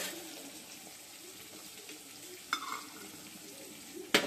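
Potatoes fry in a pan on a home kitchen stove, giving a faint, steady sizzle with soft stirring and two brief sharp clinks near the end.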